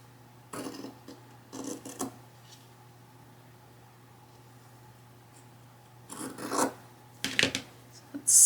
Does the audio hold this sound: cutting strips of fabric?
yes